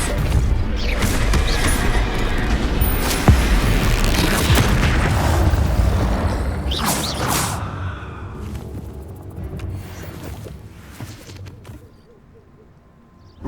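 Repulso spell cast in Hogwarts Legacy gameplay, a loud booming blast with crashing debris, followed by sustained rumbling and a fading tail into near quiet, ending on a sudden hit.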